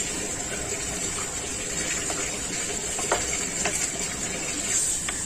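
Spice water is poured into a pot of chicken curry for a thin jhol, a soft continuous splashing gush close by, fairly quiet and steady with a few small splashes.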